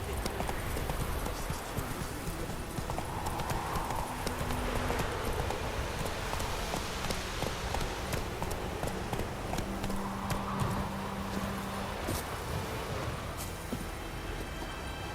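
Steady clip-clop of a horse's hooves on a road while riding in The Witcher 3: Wild Hunt, continuous and fairly close, with a faint whinny and soft game ambience underneath.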